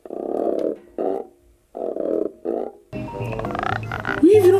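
A wallet is worked by hand as a foley prop to imitate a frog, giving four short rasping croaks with pauses between them, followed by a busier clip of film sound.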